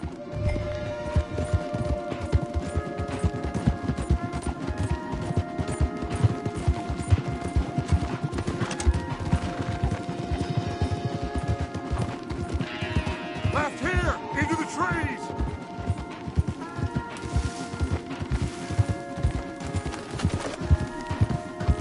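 Several horses gallop in a video game, their hooves clip-clopping in a fast, steady, continuous drumming. A voice shouts directions over the hoofbeats, and game sounds fill the background throughout.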